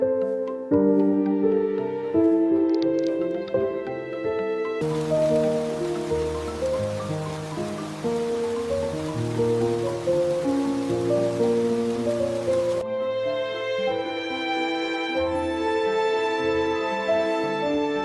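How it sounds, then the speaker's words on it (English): Steady rain in a 3D animation makes a dense, even hiss for several seconds, set between stretches of soft, tonal music that plays under it and around it. "I think you like the rain too, Mimi."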